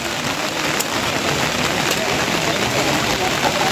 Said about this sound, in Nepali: एकदम वर्षा भइरहेको छ